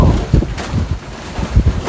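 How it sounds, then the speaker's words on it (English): Strong outdoor wind buffets the microphone in low, uneven gusts beside a small charcoal fire being built; no voices. "That wind is freaking nasty"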